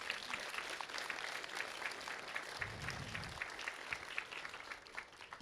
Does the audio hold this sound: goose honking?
no